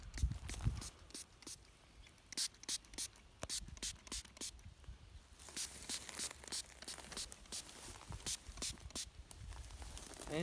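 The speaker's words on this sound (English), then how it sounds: "Spray it all over the scrape real good." Scrape Master spray lure hisses from a bottle in a series of short, close bursts over a deer scrape in the woods, mixed with rustling and faint handling noises.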